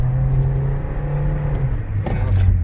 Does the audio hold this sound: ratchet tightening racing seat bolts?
no